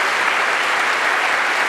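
Dense, steady audience applause for a solo singer at a choir concert, a continuous wash of many hands clapping with no voices on top.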